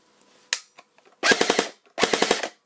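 A King Arms P90 airsoft gun fires two quick full-auto bursts of about four shots each, sharp and close, with a faint mechanical click before them; the battery is not fully charged.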